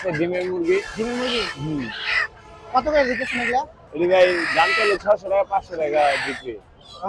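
Native chickens at a village haat market give loud, harsh squawking and clucking calls in bursts, close by and mixed with people talking.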